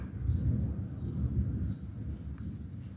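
Low rolling thunder rumbles for a few seconds, loudest early on and then fading, a deep distant roar with no talking over it.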